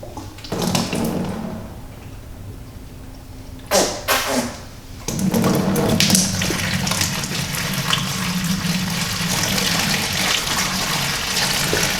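Water gushes and pours steadily into a reef aquarium nearby, with a few brief splashy bursts partway through before the flow resumes loud and continuous.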